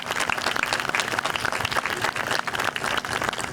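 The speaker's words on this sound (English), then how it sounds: "if we can give them a round of applause." An audience at a 9/11 sunrise memorial ceremony at a town park applauds, a steady, moderately loud patter of many hands clapping outdoors for several seconds without speech.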